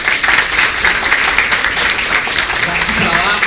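Steady applause from a crowd, continuous clapping at even loudness throughout.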